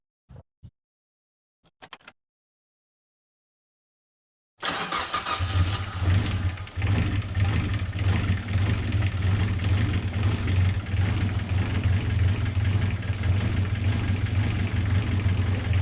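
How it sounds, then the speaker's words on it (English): A Project Zero car with an intake leak cranks and starts after a few faint clicks and near silence, then settles into a loud, steady, slightly rough idle that runs for roughly eleven seconds close to the mic. "Let's go ahead and start up the car and see if it will even idle."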